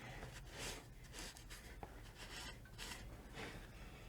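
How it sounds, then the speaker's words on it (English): Cloth wiping engine surfaces on a Kioti CK25 HST tractor during an oil and filter service, soft repeated rubbing and rasping strokes, quiet and close, with one small tap midway. "I'm gonna wipe these surfaces clean"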